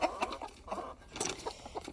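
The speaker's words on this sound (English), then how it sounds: "those are white leghorn roosters" White Leghorn roosters cluck in short, irregular bursts, fairly close, with soft barnyard noise between the calls.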